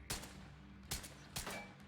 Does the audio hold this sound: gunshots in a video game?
yes